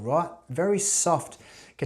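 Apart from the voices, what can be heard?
No everyday noises stand out.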